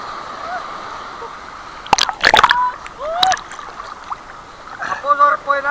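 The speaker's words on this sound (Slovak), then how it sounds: "Pekná vlna, pekná." Sea waves on a Sri Lanka holiday splashing and sloshing in several uneven bursts, loudest around the middle, with voices chattering through the clip.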